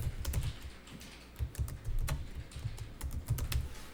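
Brisk typing on a computer keyboard during accounting data entry, rapid clusters of sharp key clicks with short pauses, close and clear, no voices.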